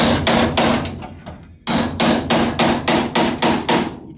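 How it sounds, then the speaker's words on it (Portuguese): Steady metallic hammer blows strike a small chisel cutting into a Volkswagen Kombi's metal body, in two quick runs of sharp, ringing taps, close and loud, with a short pause between bursts. "Aqui eu vou usar uma pequena talhadeira."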